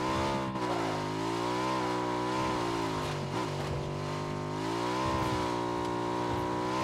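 A vehicle in the PUBG Miramar video game approaches with a steady, continuous engine drone that rises and dips slightly in pitch, loud and sustained throughout with no speech.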